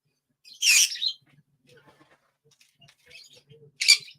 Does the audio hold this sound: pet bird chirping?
yes